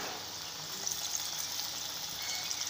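Chana dal pakora batter sizzling in hot oil in a pan, a steady, close, crackling hiss with small bubbling pops and no talking.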